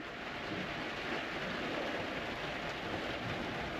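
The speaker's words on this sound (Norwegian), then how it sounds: "Da har det begynt å regne." Rain falls steadily on a boat moored at sea during a storm, a dense, even patter that holds at the same level throughout, with no talking.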